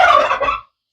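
A loud, close burst of rapid gobbling or clucking chicken calls on a farm, lasting just over half a second before cutting off to silence.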